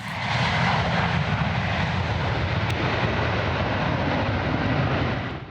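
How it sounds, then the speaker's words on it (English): Jet airplane roaring at London City Airport, a loud, sustained engine rumble and whoosh that holds steady for several seconds before easing slightly. "from where you can watch planes taking off and landing at City Airport"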